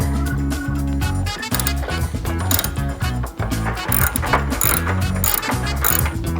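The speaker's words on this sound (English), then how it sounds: "with your 9/16 wrench on the back side, go ahead and remove this T45 Torx bit." A T45 Torx bolt is worked loose on a Harley-Davidson Touring 2014 saddlebag guard, with a 9/16 wrench holding the back side. Close, rapid ratcheting clicks come in uneven bursts, with no voices.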